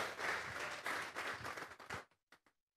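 A church congregation claps together in a dense burst of applause lasting about two seconds, then trails off into a few isolated final claps before silence.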